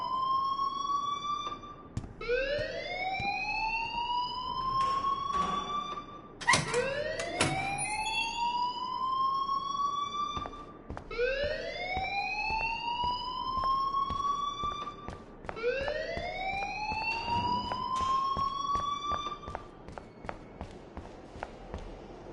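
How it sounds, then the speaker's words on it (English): A wailing alarm siren in the video game Life is Strange, rising sweeps repeating about every four seconds, loud and continuous, with faint footsteps and a brief clatter underneath. "please turn off that alarm since that's your job."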